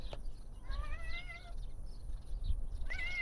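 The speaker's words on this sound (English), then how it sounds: "He's our new barn cat." A barn cat meows close by outdoors, giving one drawn-out wavering meow and then a shorter one near the end, faint against a low background rumble.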